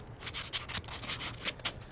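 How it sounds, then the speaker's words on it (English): Hand sanding a fishing lure with sandpaper: soft, irregular rubbing strokes, a few stronger swipes standing out, close and fairly quiet with no voices. "But I do a lot of sanding."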